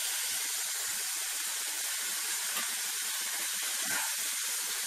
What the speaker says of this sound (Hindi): अब हम इसमें सोया सॉस भी डाल देते हैं।